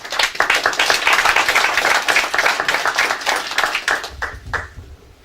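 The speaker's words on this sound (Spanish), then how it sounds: "Recibimos con fuerte aplauso." Audience applause at a lecture on a new legal code, steady dense clapping from many hands that fills the room for several seconds and then thins out toward the end.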